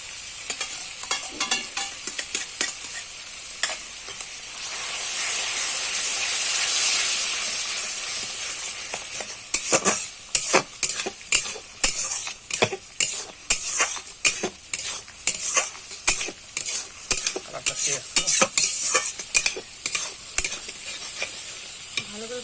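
Masala fried with beaten yogurt in a pan for katla fish kalia: a loud, continuous sizzle with steamy hiss, then rapid, rhythmic spatula scraping and stirring strokes close by.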